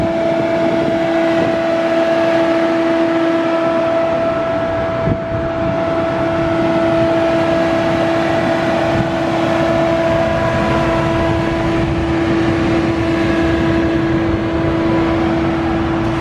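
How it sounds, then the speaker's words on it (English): A 2020 Dodge Challenger Hellcat Redeye sits shut off while its engine cools, giving a steady close whine with two sustained tones over a low rushing hum, constant and unbroken for the whole stretch with no voices. "this is what the red eye sounds like when it is cooling off"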